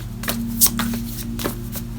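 A large tarot card deck being shuffled by hand, soft irregular riffling and slapping of cards close up over a low steady hum.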